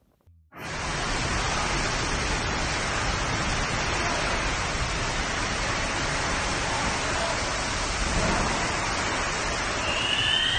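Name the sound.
hailstorm in Rome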